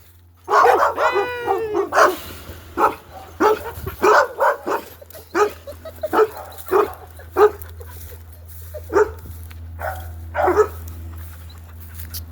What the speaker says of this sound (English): And here's the dogs.